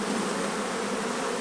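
Honey bees swarming around an open hive while frames of honey are worked, a dense continuous buzz close by, steady and moderately loud with no voices.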